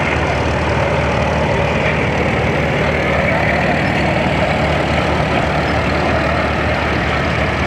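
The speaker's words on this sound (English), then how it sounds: "Here comes a Caterpillar crawler. It has a diesel engine, of course." A Caterpillar D2 crawler tractor's diesel engine runs steadily in an antique tractor parade, a loud, constant low rumble with a dense mechanical clatter and no pauses.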